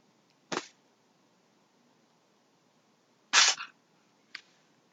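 A cat sneezes three times: three short, sharp bursts against near silence, the middle one loudest and the last faint.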